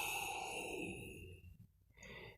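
A person demonstrates slow, deep breathing: a long, close, breathy exhale or sigh that fades, then a short pause and a quicker intake of breath.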